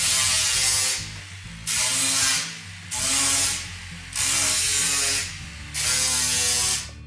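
A 5-inch sanding disc on a power sander grinds across a rear bumper in five repeated passes, each a loud harsh rasp of about a second with short quieter pauses between, close by and with no talking.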